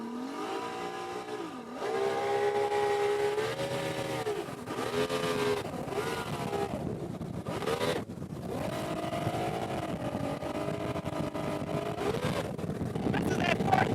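A 20-foot bass boat's outboard engine holds a steady drone at about 4,000 RPM, roughly 35 mph, close and loud throughout, with a voice speaking over it and slight pitch shifts as the throttle varies.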